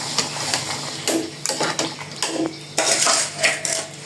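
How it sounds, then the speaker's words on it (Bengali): Washed rice is tipped into a pot of boiling water on a home stove, with close, busy clattering and scraping of a utensil against the metal pot in uneven bursts. "চাল দিয়ে দিলাম"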